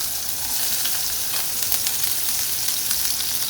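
Green chili and ginger sauté in hot oil, giving a constant bright sizzle with faint crackles throughout, close and unbroken, with nobody speaking.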